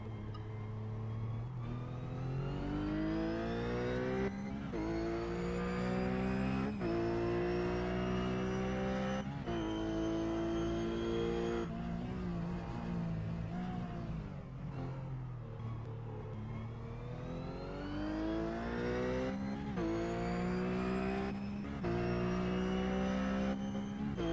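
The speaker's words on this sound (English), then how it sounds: "Let's listen to this wonderful Porsche engine." A Porsche race car engine roars continuously at Spa, pitch climbing through the gears with sharp drops at each shift, sweeping up and down as the car drives a lap.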